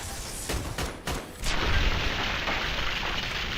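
Shooter video game gunfire cracks out in a few sharp, separate shots, then a heavier blast swells into a loud, sustained roar of rapid fire and rumble.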